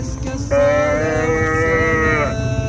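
A single long, loud cow moo close by, lasting nearly two seconds, over a low rumble of background noise.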